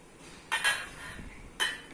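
A bowl and dishes handled while children prepare fruit salad: two faint, brief clinks of dishware about a second apart against a quiet room background.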